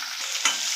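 Finely chopped onions, added with green chillies, fry and are stirred in a pan for a cauliflower egg stir-fry, giving a steady close sizzle with a brief louder scrape of stirring.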